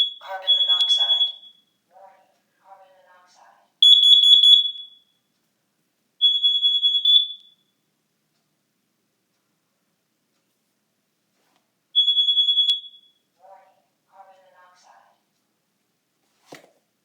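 Household smoke and carbon monoxide alarms under test sound in loud, high-pitched beeping bursts, about four separate bursts over several seconds with silent gaps, mixed with short recorded-voice announcements.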